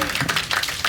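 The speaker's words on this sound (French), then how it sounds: "Très applaudi, hein, Mike Debourg." Applause from the crowd at a bowling tournament after a strike, a short dense burst of clapping mixed with a commentator's voice.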